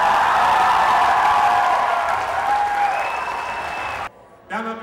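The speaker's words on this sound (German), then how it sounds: "So stehen bleiben, ist dein Applaus." Applause from an audience for a performer standing inside a large balloon, a dense wash of clapping that fades out abruptly near the end, followed by a brief voice.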